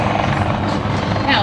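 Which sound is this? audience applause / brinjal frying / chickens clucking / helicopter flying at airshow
helicopter flying at airshow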